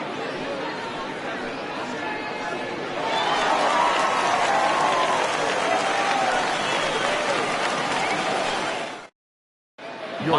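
Home crowd at a ballgame applauding a starting pitcher as he departs, a broad wash of clapping and crowd chatter that swells after a few seconds and holds steady, with voices talking over it before a brief cut.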